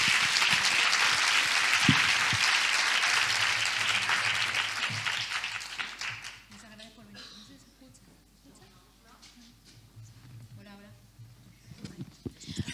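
Audience applause at a Galician-language talk event, loud dense clapping for about six seconds that then fades, followed by a speaker beginning to talk with a few scattered claps.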